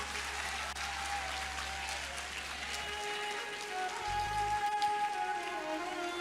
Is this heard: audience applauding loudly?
yes